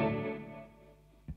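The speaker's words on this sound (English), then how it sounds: "Let's go for some cleaner stuff and do some harmonic trem things. I'm also gonna add a little bit of plate reverb here." Clean electric guitar run through harmonic tremolo and plate reverb pedals: a single sustained chord rings and decays with a shimmering wash, then a short low thump near the end.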